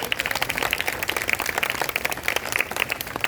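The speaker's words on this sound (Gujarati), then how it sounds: "તો આપણે વિદ્યાર્થીઓએ પણ તાળીઓ સતત ચાલુ રાખવી જોઈએ." Students applauding at a girls' school graduation ceremony, a steady crowd of many hands clapping continuously and fairly close, with no break in the dense patter throughout.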